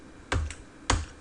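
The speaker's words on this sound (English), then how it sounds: "we're going to use our cursor buttons on our keyboard" Cursor keys on a computer keyboard struck hard, two sharp separate clacks heard close, with no talk.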